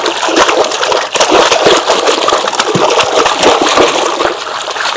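Foley water splashed by hand in a bucket-filled tub to mimic people running through a lake for film sound effects; continuous close, loud sloshing and splattering with rhythmic slaps, no voices.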